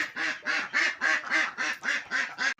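Domestic ducks quack loudly and close by, about nine harsh nasal quacks in an even, steady rhythm, with no voices over them.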